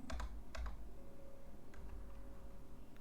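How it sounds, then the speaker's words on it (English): Clicky keystrokes on a quieter computer keyboard, a few quick close taps in a burst, then a pause and a couple of fainter presses over a low steady hum. "I switched out to my quieter keyboard."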